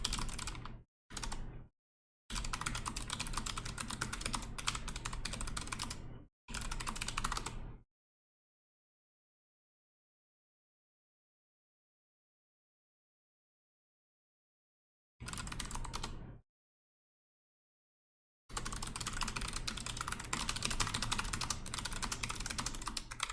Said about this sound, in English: Oh, we're typing over here.